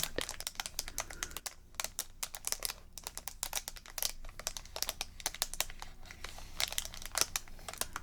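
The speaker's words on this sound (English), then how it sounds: "this plastic is really loud" Plastic packaging being peeled and removed from a zen garden item, crinkling in rapid, crisp bursts close up, with sharp crackles scattered throughout and no talking.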